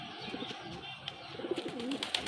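Bombay pigeon chicks coo softly and repeatedly at close range, the low burbling calls rising in a few clearer bursts toward the end over a faint steady background hiss.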